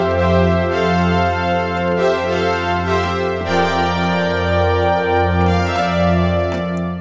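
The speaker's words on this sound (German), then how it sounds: "Ich suche mir hier unter Pads das Preset Dynamic Soft Pad, denn das passt sehr gut in die Zeit und das klingt so." A Logic Retro Synth Dynamic Soft Pad preset plays sustained, warm chords with smooth, soft swells, each held note blending into the next in a slow, even rhythm, alone and steady.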